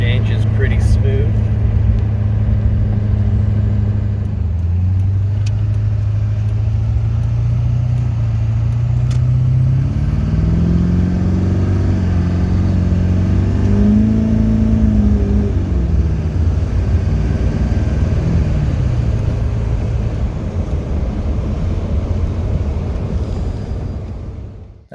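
A Duramax diesel truck with an Allison 1000 five-speed automatic transmission accelerates up to speed, its engine rumbling steadily and loudly with smooth rising and falling pitch changes as gears shift, over continuous road noise.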